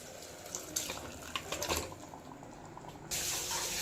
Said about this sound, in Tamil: வேக வச்ச மட்டனை தண்ணியோட சேர்த்துக்கிறேன்